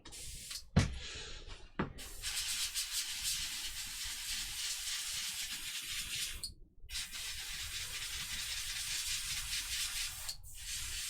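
An airbrush sprays lacquer paint onto a 1/72 Tamiya F-16CJ scale model plane, making a steady close hiss that runs for several seconds and stops briefly twice, with no voices.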